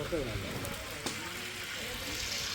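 Chicken frying crisp in a pan gives a steady broadband sizzle throughout, with people talking over it.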